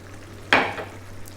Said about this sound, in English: We're now going to add 2 cups of water